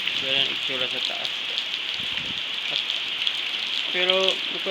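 Steady rain falls during a windy rainy-season day, a constant close hiss throughout, while a person talks briefly at the start and again near the end.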